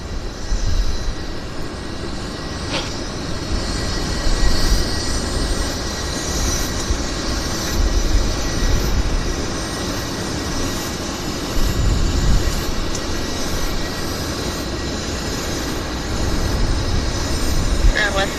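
An airliner takes off from runway 26 left at Vancouver airport, its engines a loud, continuous broadband roar that stays steady throughout.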